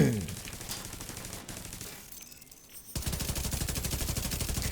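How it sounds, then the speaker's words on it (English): Automated turret deployed in The Division 2 firing in rapid bursts of gunfire, loud and close, with a short lull before dense sustained shooting resumes. "my turret's gonna kill him though."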